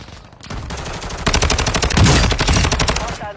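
Rapid automatic gunfire in a video game, loud and close, bursting in a dense stream of shots that builds and continues nearly to the end, with faint game noise before it starts.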